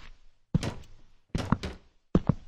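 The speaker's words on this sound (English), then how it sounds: "Who's banging on my window?" Three separate bursts of heavy banging on a window in a Roblox horror game, each a quick cluster of dull thuds with quiet gaps between them.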